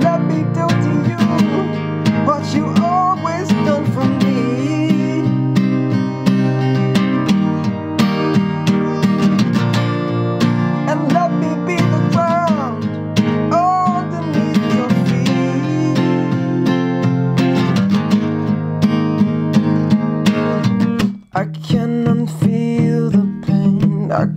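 Strummed acoustic guitar chords ring out in a steady rhythm with no voices, briefly pausing near the end before resuming.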